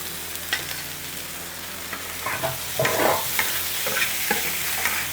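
Castanopsis tofu stir-fried in a hot pan with meat, carrot and chili rings, sizzling steadily as a spatula scrapes and tosses the ingredients in uneven strokes, close and clear with no talk.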